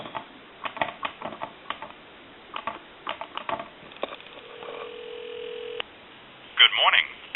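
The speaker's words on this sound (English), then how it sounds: "give you dial tone" A steady dial tone from a wood wall touchtone telephone hums for about a second and a half, surrounded by soft tapping, clicks and handling noises.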